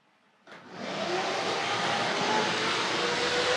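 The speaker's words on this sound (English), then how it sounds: "We've got the ribbed wheels making that familiar sound." A Tri-ang Hornby R.555C diesel Pullman model train starts up after half a second and runs steadily, its ribbed wheels giving a continuous, fairly loud whirring rumble that holds evenly to the end.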